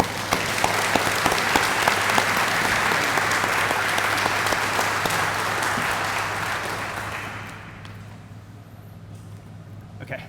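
Audience applause at a military retirement ceremony honouring a Chief Warrant Officer 4, a loud sustained crowd of clapping that fades out toward the end, leaving quiet room tone.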